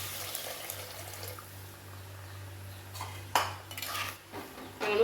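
Tamarind water is poured into a pan for lentil ball curry, a quiet liquid splash and trickle with a few faint clinks of a utensil against the pan near the end, over a low steady hum.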